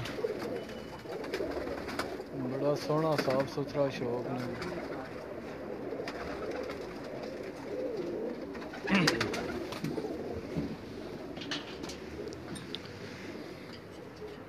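Pigeons coo softly and repeatedly in a loft, their murmuring calls forming a continuous background while someone talks nearby.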